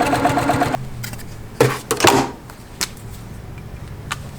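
Sewing machine stitching the fabric of a patriotic table topper, heard in short bursts of mechanical whirring: a longer run at the start, then several brief stitch spurts separated by pauses.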